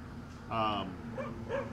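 A dog near a lake gives a loud yelping bark followed by two shorter whimpering yips, close by, over a low background hum.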